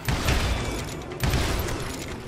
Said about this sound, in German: Echt schon, dass ich die alle mit einem Schuss erledige.